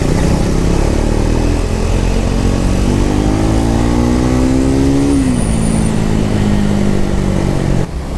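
A Triumph Speed 400 motorcycle rides in first gear through city traffic, its engine droning loud and close with a rising pitch that suddenly drops, then settles over steady road and wind noise.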